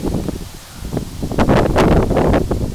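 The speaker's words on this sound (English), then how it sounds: "It's pretty windy out here." Strong wind blowing across a backyard buffets the microphone with a steady low roar, and gusts with leaf rustling build louder in the second half.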